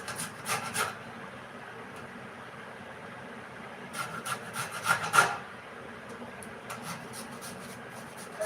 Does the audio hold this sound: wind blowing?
no